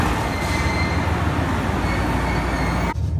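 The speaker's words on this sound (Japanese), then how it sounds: "大阪駅からはこの列車に乗ります。" KiHa 189 series diesel limited express Hamakaze at Osaka Station, heard as a loud, continuous rumble and hiss of the train close by, with a faint squeal running through it before it stops abruptly.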